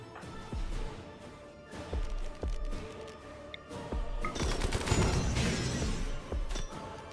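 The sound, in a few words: minigun fire in the video game Inquest of the Dead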